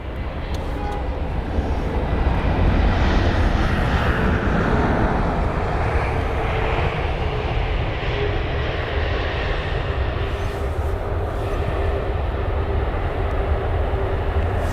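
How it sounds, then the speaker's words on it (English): A British Airways Airbus A321neo, registration G-NEOV, arriving from Munich lands at London Heathrow, its engines a steady, broad roar heard from a distance, holding constant throughout. "the British A321neo with the reg Golf November Echo Oscar Victor, or GNEOV. Here it is"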